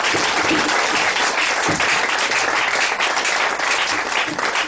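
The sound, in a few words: congregation clapping hands in church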